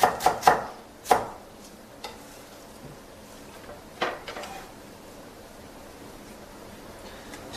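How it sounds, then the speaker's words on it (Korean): A knife finely slices onions on a cutting board, with a few crisp close chops near the start, then sparse, fainter cuts over a quiet kitchen background. "준비된 양파는 곱게 채를 썰어주시고요"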